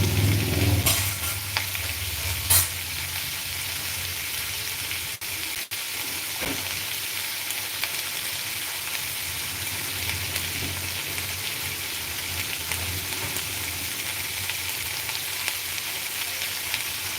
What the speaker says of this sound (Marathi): आपल्याला कांद्यांना असं पलटवून द्यायचं आहे उलटा करायची आहे